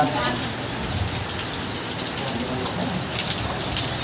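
Rain falling outdoors, a continuous even hiss of drops that stays at one level throughout, with faint bird calls now and then.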